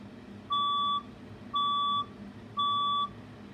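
Fire alarm test in a building: three evenly spaced electronic beeps, each about half a second long, sharp and piercing against a low background hum.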